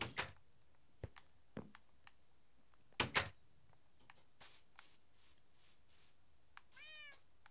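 Cat meowing in the Minecraft video game, a few short high mews scattered among soft clicks and game sounds, with one longer rising-falling meow near the end, fairly quiet and with no talk.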